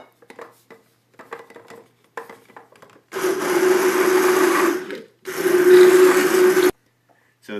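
A blender purees gazpacho with red wine vinegar in two loud whirring runs, about two seconds each with a short gap between, after some light scraping and clinking of kitchenware.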